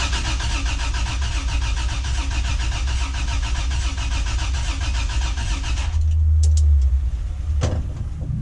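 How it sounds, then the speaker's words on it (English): The engine of a Toyota FJ62 barn find cranks steadily with a fast rhythmic starter churn for about six seconds, then stops and leaves a low rumble and a few clanks. "Give it some cranks, see if that gas level moves."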